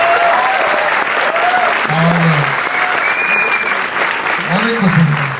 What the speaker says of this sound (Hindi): इसके लिए जरा एक बार जोरदार तालियां सोनू जी के लिए।